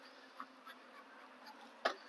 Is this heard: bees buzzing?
yes